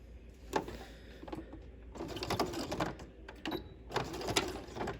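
A sewing machine stitches along a line to secure a welt pocket flap. Its needle chatters in short, close bursts separated by brief pauses.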